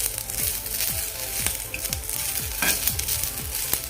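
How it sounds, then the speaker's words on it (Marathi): Spices dry roasting in a hot pan for golyachi amti give a steady close sizzle and crackle, with repeated stirring scrapes at a regular pace. "एखाद दोन मिनिटामध्येच आपलं हे सर्व व्यवस्थित असं भाजून होईल"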